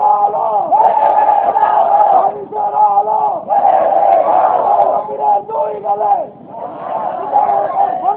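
A large crowd at a religious gathering chants the takbir in unison, loud repeated call-and-response shouts of Allahu Akbar rising and falling in waves, close and powerful with brief gaps between chants.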